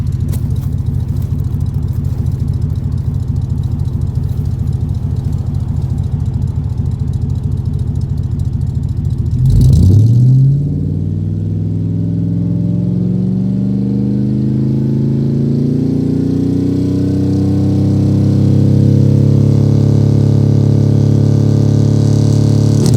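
A rough engine of a 2001 Chevrolet Suburban 2500 HD running on propane idles steadily, then revs up abruptly and settles into a deep, rumbling exhaust drone that grows slightly louder toward the end.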